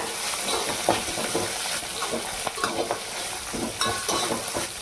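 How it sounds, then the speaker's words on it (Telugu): Ingredients stirred and fried in a pan for a Telugu peanut chutney served with punugulu, with cumin browning in hot oil: a steady close sizzle with repeated scraping stir strokes and no talk. "ఇట్లా మంచిగా కలిపి కొంచెం ఇట్లా రెడ్గా వేగిన తర్వాత"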